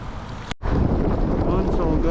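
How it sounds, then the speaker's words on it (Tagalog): Strong wind buffets the microphone on a fishing boat at sea off La Union, a loud continuous rumble that drops out briefly near the start, then returns steady and dense. "Malakas yung hangin, diba?"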